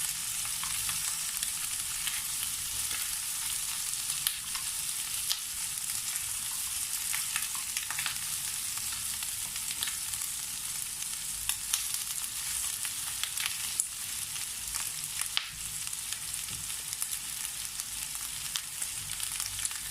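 Chicken feet, rinsed in cold water, are stirred in a hot pan while cooking for a yellow curry, giving a steady close sizzle and frying hiss with faint scraping throughout.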